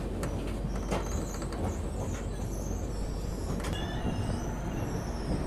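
Train noise at Ballarshah railway station platform in Maharashtra, a steady loud rumble of rolling carriages with faint wheel squeals and clatter throughout.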